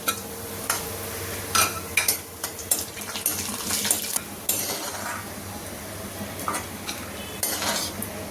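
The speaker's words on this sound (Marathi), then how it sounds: "आता आपण ड्रायफ्रूट फ्राय करून घेऊया।" Dry fruits fry quietly in a pan for rice kheer, a soft steady sizzle broken by sharp clinks and scrapes of a spoon stirring against metal.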